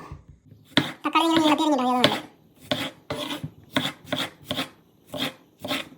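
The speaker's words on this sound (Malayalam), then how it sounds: "അടുത്തായിട്ട് നമുക്ക് തക്കാളി അരിഞ്ഞു കൊടുക്കാം" Knife slicing tomato lengthwise on a cutting board, a run of short crisp chopping strokes in a steady rhythm after a brief spoken passage at the start.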